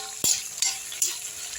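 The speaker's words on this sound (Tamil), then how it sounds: "சாம்பார் வெங்காயம் போட்டுப்போம். சாம்பார் வெங்காயம் நல்லா வதங்கட்டும்." Shallots, the small sambar onions, stirred in a hot pan with oil, giving three sharp scraping stirs over a steady close sizzle of frying, for a chicken rice dish cooked over low flame.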